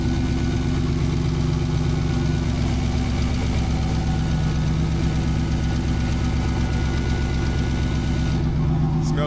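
A Dodge Challenger engine running on E85 fuel after a hasty cold start, idling with a steady, loud, rough low rumble through an unfinished exhaust system, continuous throughout with no talk.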